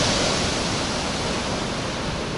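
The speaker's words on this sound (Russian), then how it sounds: "Какие волны, а?" Stormy Black Sea surf on a beach at Alushta, a continuous loud broadband roar of crashing waves with no clear breaks and no talk.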